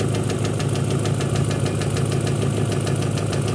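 A car engine idles with a persistent rapid tapping knock, a suspected faulty knock sensor or ignition timing problem, heard close and continuous without speech.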